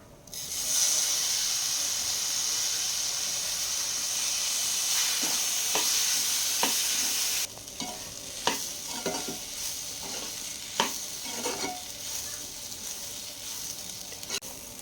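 Chopped pineapple is roasted with rava in a pan. A loud, steady hissing sizzle comes first, then drops away to a run of close spoon scrapes and stirs.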